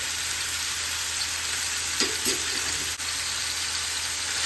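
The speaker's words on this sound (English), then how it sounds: "Now just mix that all in and cook it till it's browned." Seasoned mixture with cumin, paprika and garlic cooking in a pan for a carnivore queso dip, a dense, even hiss of frying with a few faint stirring clicks, steady and close without speech.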